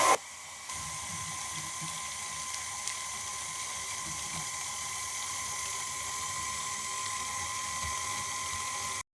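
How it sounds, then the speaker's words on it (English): A KitchenAid stand mixer beats butter with a continuous whirring motor whine, steady and moderately loud, after a short bump at the start. "You want to make sure that you beat the butter for at least 5 minutes"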